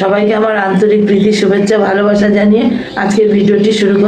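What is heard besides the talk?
No everyday noises stand out.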